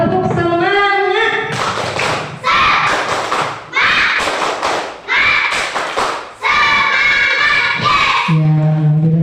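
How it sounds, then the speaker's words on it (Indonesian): A classroom of children performs a rhythmic spirit clap, chanting loudly together in bursts over sharp, close clapping thumps, with a teacher's voice speaking before and after. "Ayo kita tepuk semangat dulu supaya lebih semangat."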